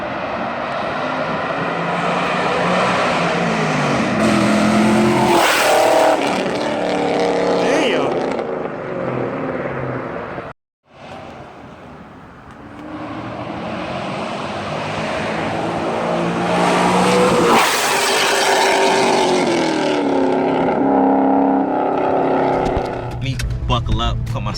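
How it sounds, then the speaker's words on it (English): A Chevrolet Camaro SS daily driver roars past on a flyby, its engine note swelling and fading twice with a short gap between passes. "show y'all what it sounds like on a flyby"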